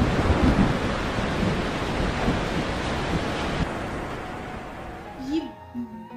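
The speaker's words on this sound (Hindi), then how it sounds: "बारिश तो रुकने की नाम ही नहीं ले रही है।" Heavy rain pours in a dense, steady hiss that eases toward the end, where a voice briefly breaks in.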